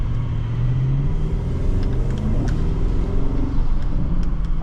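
A 2022 Porsche Cayenne GTS Coupe engine rumbles loudly and steadily from inside the cabin as driving begins, a deep continuous drone with a slight rise in pitch.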